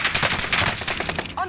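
Rapid automatic gunfire rattles in dense bursts during a Warzone match on Fortune's Keep, loud and close, with a brief voice at the very end.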